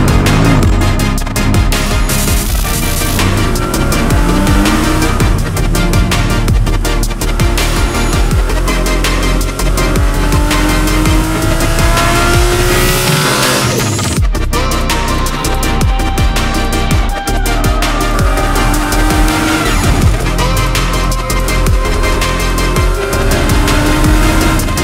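Race car lapping a short circuit during a practice session, the engine loud and continuous as it climbs and drops through the gears, with brief high squeals mixed in, filling the whole stretch without talk.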